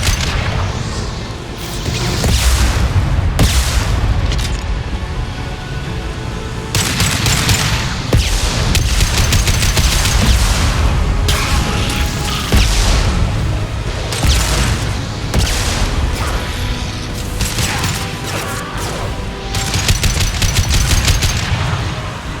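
Mass Effect 2 PC combat with sustained loud gunfire, rapid bursts and heavy booming concussive shots layered densely, with brief lulls between volleys.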